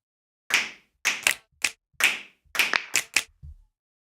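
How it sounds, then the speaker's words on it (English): Finger snap samples from the Clap Pack Deluxe sound library: about nine crisp, dry snaps in an uneven rhythm, close and isolated with silence between them. "Finger snaps."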